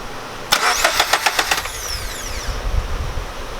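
A swapped engine in a Lexus IS300 cranks over to prime oil: a sharp onset, then a quick series of rhythmic starter-motor chugs for about a second, followed by a softer rumbling tail, close and loud.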